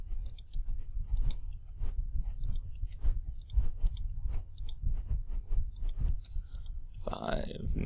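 A graphing calculator keypad gives a rapid, uneven series of small plastic clicks as matrix values are entered, each press crisp and close, with a soft low murmur underneath.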